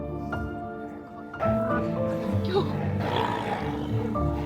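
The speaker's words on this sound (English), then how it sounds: "That's a baby roaring." A baby rhino calf gives a sustained, loud, groaning roar in the wild in South Africa. The call swells after a quieter opening and holds steady for several seconds without any talk.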